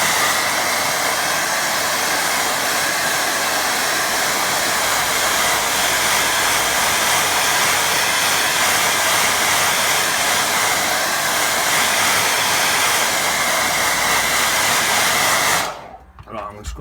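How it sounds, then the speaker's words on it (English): A hair dryer blows steadily and loudly across a watercolour painting of a boat on a beach, a continuous broadband whoosh that holds for about fifteen seconds before cutting off abruptly. "let's give it a blow dry"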